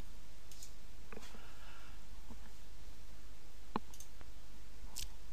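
A few scattered computer mouse clicks sound faintly and close against a steady background hiss while working in 3ds Max, spaced irregularly with no talking.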